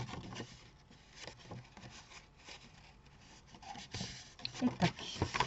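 Paper is creased along a fold for a handmade Christmas card, a soft close rubbing and scraping that builds into a few firmer strokes near the end.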